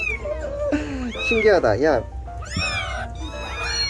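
Young kittens kept among baby meerkats let out a run of high, wavering meows, several cries close together with short gaps, while people speak briefly over them.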